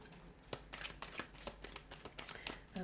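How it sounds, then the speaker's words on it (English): Tarot cards being shuffled close by, a quick run of crisp riffling snaps and flutters in an irregular rhythm, fairly quiet with no talking. "we'll go ahead and give the cards a shuffle"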